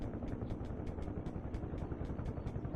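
A helicopter's rotor chops in a steady, regular beat beneath a low engine rumble in the DCS flight simulator, heard faintly at a distance, with nobody talking.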